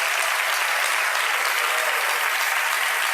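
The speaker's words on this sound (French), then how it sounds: "Est-ce qu'on peut acclamer le Seigneur?" A church congregation applauds, a dense, steady wash of many hands clapping at even loudness throughout.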